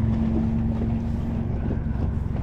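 A fishing boat engine idles with a steady low drone, mixed with wind buffeting the microphone, no talking.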